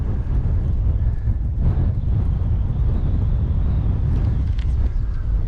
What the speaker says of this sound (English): It's probably 25, 30 miles per hour winds out here today.